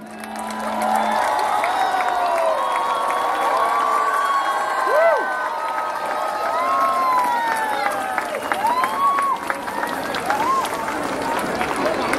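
An Easter celebration crowd in Thimi, Bhaktapur, cheering and clapping loudly as balloons are released, with shouts, whoops and children's voices swelling over a continuous roar.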